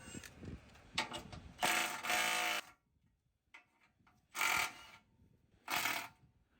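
A ratchet works loose the skid plate bolts under a Toyota Tacoma during a front bumper install, heard as close bursts of rapid clicking separated by quiet gaps, with faint handling noises in between.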